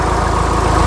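A 2016 Mahindra XUV 500 W10 sunroof SUV idles with a steady, even engine hum and a low rhythmic pulse, close by and continuous with no talk over it.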